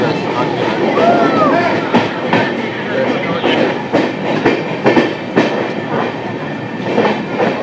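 A passenger train rumbles along with rhythmic clickety-clack of wheels on rail joints, steady and close, with faint voices in the background, arriving at Farakka Junction.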